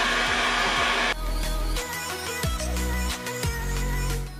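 Heat gun blowing on vinyl wrap over interior car trim, a loud steady whoosh for about a second, then a lower continuous hum with scattered clicks and handling taps nearby.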